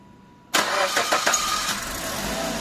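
After a radiator repair, a car engine starts on the starter: a sudden loud catch and brief cranking chatter that quickly settles into a steady close idle.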